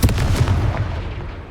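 A Confringo spell explosion in Hogwarts Legacy goes off as a single loud, booming blast with a sharp attack that fades into a rumbling tail.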